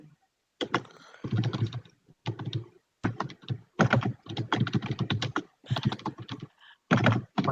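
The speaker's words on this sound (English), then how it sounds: "Some vicious typing over there." Fast, forceful typing on a computer keyboard, with dense bursts of clacking keystrokes separated by short pauses, close and fairly loud.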